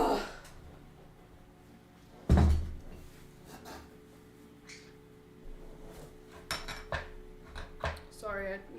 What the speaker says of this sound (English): Sorry, I knocked over my glass of water.